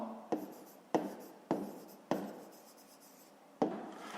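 A hand writes out a math solution in short scratchy strokes, probably pen on paper. Five distinct strokes, each starting with a sharp onset and fading into a soft rub, are quiet and close, with no talking over them.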